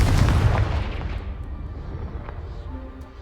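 A Confringo blasting spell in Hogwarts Legacy explodes against a blocking pile of objects, a loud booming burst with deep rumble at the start that decays into a lingering crackling tail, with no talking.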